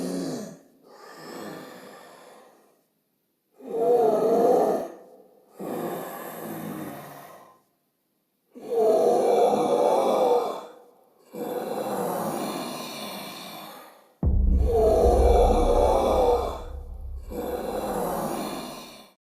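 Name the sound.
deep distorted breathing from Spirit Halloween plague doctor prop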